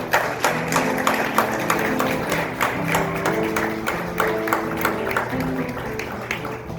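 Audience at a storytelling fundraiser for The Mercury Cafe clapping steadily, a dense patter of hands that holds at an even level throughout without pause.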